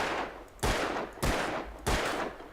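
Three gunshots from the video game Alan Wake, evenly spaced sharp reports over a low steady background, with no voices.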